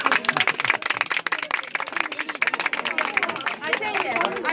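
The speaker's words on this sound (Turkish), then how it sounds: "alkışlayanları da çekelim bu arada" Guests at an engagement party clap in a dense, continuous wave for several seconds, with lively chatter and voices mixed through the applause.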